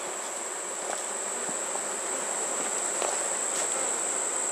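A large honeybee colony inside the wall of an abandoned house buzzes loudly and continuously, a dense steady drone with a few individual bees passing close by.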